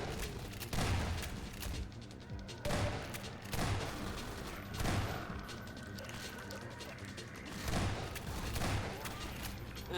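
Grenades exploding in Half-Life 2: Episode One, several loud booms spaced a couple of seconds apart over continuous in-game gunfire and action noise.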